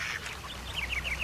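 A small duck in the video game Roundabout gives a quick run of soft, nasal quacks in a park by the water, faint over a low background hum.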